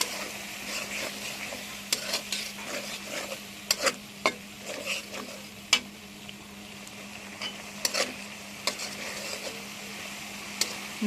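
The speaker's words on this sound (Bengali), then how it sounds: "এই পর্যায়ে নাড়তে থাকবো বন্ধুরা" Close, fairly quiet stirring of a meat and potato curry in a pan, with repeated spoon taps and scrapes over a low frying sizzle at an irregular pace, no voices.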